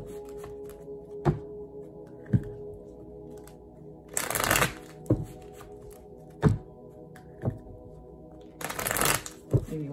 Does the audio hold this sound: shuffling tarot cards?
yes